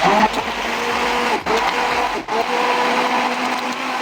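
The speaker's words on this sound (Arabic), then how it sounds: "دابا نخلطو كلشي بالخلاط حتى تندمج عندنا كاع هاد الخليط" A blender whirs steadily as it mixes a simple pasta cream sauce of flour and other ingredients, a loud close motor drone with two brief dips in speed and no talking.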